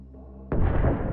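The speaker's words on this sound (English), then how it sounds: "What a massive explosion from the truck!" A low hum breaks into a sudden, massive blast as an ammunition truck explodes halfway through, followed by a dense roaring rumble that fills the rest of the moment.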